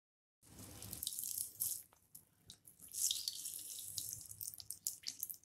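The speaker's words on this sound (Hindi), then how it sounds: "थोड़ा यहाँ पे ताकत लगाना पड़ता है तभी अच्छे से पानी निकलता है" Water squeezed out of grated cauliflower for paratha filling, heard as close, uneven trickles and splashes that start after a brief silence and come in pulses as the squeezing goes on.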